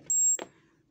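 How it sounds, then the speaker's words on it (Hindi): An electronic voting machine gives a single short, clear high-pitched electronic beep after a vote is cast, followed by a brief click and then quiet. "बीप की आवाज़ आई है वोट चली गई"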